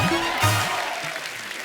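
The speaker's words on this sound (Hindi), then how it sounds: "तबला के लिए जोरदार तालियां हो जाए" A studio audience on a comedy show claps for the tabla player, a short, dense patter of applause with a low musical tone underneath, fading slightly over its brief length.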